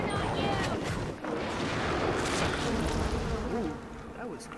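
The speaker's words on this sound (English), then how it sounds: "Have some bees." A swarm of bees unleashed as an attack in the BioShock video game, a dense continuous buzzing drone close and loud throughout, mixed with game sounds and a voice speaking over it.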